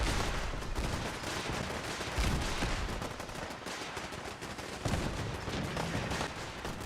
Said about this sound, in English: Raiders are now attacking.